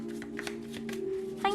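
Tarot cards being shuffled during a reading, a short burst of soft riffling and flicking of cards close by, with a faint steady hum underneath.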